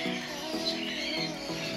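Many birds, including conures, chirp and call together inside a large aviary in the Philippines, with continuous bright high-pitched chatter throughout.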